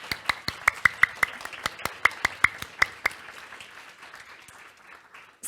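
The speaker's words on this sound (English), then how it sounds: "Can we give a big round of applause to our panel?" Audience hands clap for a panel at a library sustainability discussion, with a series of distinct, fairly sparse claps that thin out and fade over several seconds.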